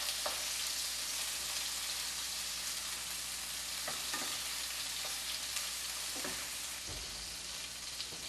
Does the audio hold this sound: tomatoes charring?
yes